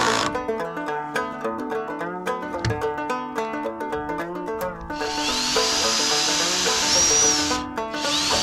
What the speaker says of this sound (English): Re-drill the holes and screw the walls together